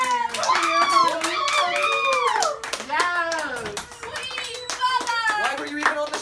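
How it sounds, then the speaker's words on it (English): Clapping rings out for a guest on a comedy talk-show finale, sharp scattered claps mixed with loud, excited voices talking and shouting over them throughout. "Let's give a warm round of applause"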